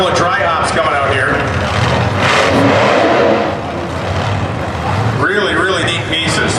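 A loud, roaring AA Gasser drag racing engine revs hard in short bursts during dry hops at the starting line at Indy, with crowd noise and a voice mixed under the din.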